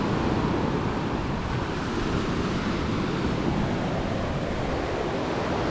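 Ocean surf on a windy day at a dive site in Dumaguete, Philippines, a constant broad wash of waves and wind rumble at moderate level with no talk.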